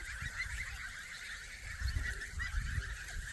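Geese on a grassy pasture keep up a continuous chatter of honks and low calls, a flock heard at moderate distance with overlapping voices.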